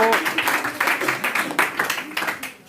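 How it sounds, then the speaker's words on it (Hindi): A classroom of students claps for a fellow student, a short burst of fairly close, uneven hand claps with a voice speaking over them. "तो आकृति के लिए ताली"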